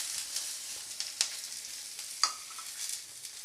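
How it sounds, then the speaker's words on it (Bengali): Capsicum, onion and tomato sizzle in a hot pan with a steady bright crackle, punctuated by a couple of sharper spits and stirring scrapes, close and without talk. "এবার আমি সামান্য ক্যাপসিকাম, পেঁয়াজ, টমেটো সবগুলোই দিয়ে দেব।"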